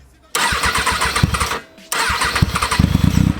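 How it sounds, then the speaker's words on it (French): A motorcycle engine cranks and catches, roaring loudly up close, cuts out briefly, then starts again and revs with a rough, pulsing idle. "Ce qu'on peut faire maintenant, c'est qu'on va démarrer la moto."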